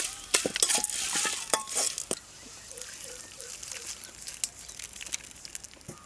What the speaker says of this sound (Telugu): ఒక అర చెంచా మినప్పప్పు, కొద్దిగా ఆవాలు, కొంచెం కరివేపాకు, రెండు ఎండుమిరపకాయలు వేయించుకుంటే